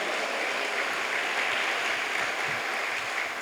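Steady, dense applause from a church congregation during a Baptist communion service, a continuous even wash of many clapping hands with no clear gaps, heard at moderate level.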